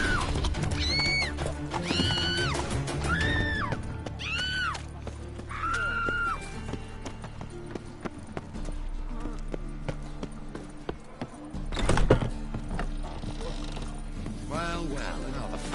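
Roach, the horse in The Witcher 3, gives several loud whinnies early on, followed by steady clip-clop hoofbeats and game ambience, with a sharp crash near the end.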